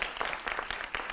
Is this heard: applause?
yes